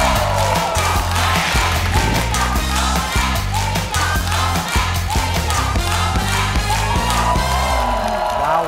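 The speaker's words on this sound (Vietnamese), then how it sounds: "Một tràng pháo tay thật lớn để chào đón ban biện luận đầu tiên, nghệ sĩ Mỹ Bi Trần và nghệ sĩ Xuân Lan." A studio audience on a Vietnamese TV talk show cheers and claps as the first debate panel is welcomed, set over loud pulsing show music with whoops and crowd noise throughout.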